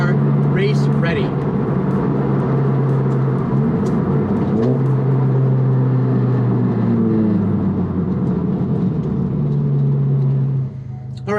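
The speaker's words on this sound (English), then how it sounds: "this car is way too loud, most likely, for you guys to hear me" Loud Honda Civic Type R FK8 race-prepared engine drones and revs steadily throughout, rising and falling in pitch, with occasional speech over it before cutting off at the end.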